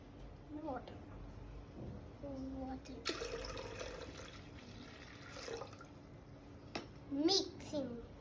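Water is poured into jaggery for panakam, a sweet Sri Ramanavami drink, giving a soft splashing pour in the middle of the clip, with people talking throughout and a voice near the end.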